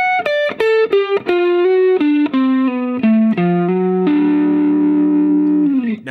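A distorted electric guitar plays a Mixolydian blues hybrid lick slowly, note by note in a descending run, ending on a long sustained note, loud and up close without any voice.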